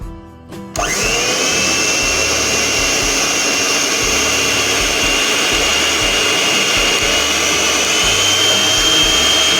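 An electric hand mixer whirs steadily at medium speed, beating a batter of eggs and sugar in a pan-shaped bowl, starting up after a brief knock and holding a loud, continuous motor drone for the rest of the clip.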